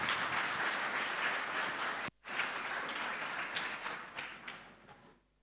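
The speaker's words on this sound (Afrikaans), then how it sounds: "Nog 'n lekker hand klap vir ons kinders asseblief." A congregation claps for the children at a confirmation church service, steady dense applause with a brief gap midway, then tapering off into quiet.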